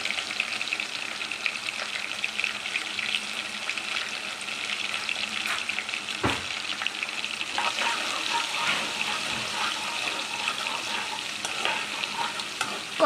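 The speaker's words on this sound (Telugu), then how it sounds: "ముందుగా గీ వేడెక్కాక వెల్లిపాయ, పచ్చిమిర్చి, కరివేపాకు వేసేసుకొని ఫ్రై చేసుకోవాలండి." Garlic, green chilies and curry leaves fry in hot ghee, giving a steady bright sizzle throughout with occasional stirring scrapes and small clinks; no talking.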